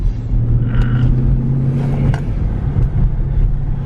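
A Jeep Trackhawk's engine rumbles low and close, revving up briefly as more throttle is applied, with no talk over it.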